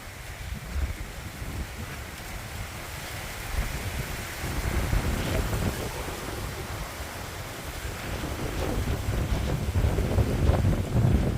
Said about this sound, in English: Clear day, but really cold, a little bit of wind.